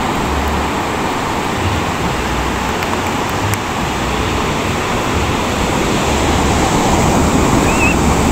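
Loud, continuous roar of ocean surf breaking on a beach, steady and broadband with wind buffeting the microphone, no voices.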